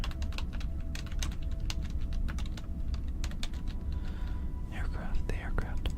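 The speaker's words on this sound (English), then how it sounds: "I was busy unplugging my keyboard so I could type on it." Rapid typing on a computer keyboard, a dense run of close, crisp key clicks through most of the clip, with soft whispered speech joining near the end.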